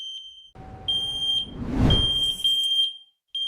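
A smoke alarm, set off with its test button, sounds piercing high-pitched beeps in repeated bursts, with a brief rumbling noise partway through.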